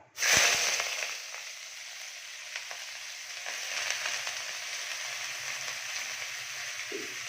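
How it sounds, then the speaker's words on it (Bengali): Chopped onions hit hot oil in a wok with a loud initial crackle, then settle into a steady, close sizzle and spatter of frying that continues throughout. "এবারে আমি কড়াইতে তেল গরম করতে দিয়েছি। এবারে দিয়ে দেব কুচনো পেঁয়াজ"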